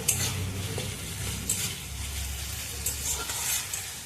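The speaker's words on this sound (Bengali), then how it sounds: "এইভাবে কষতে হবে মশলাটা।" Onion and spice paste for a Katla fish curry is stirred and sautéed in a pan, a steady sizzle under repeated scraping of a spoon against the metal, close and fairly loud, with no talk.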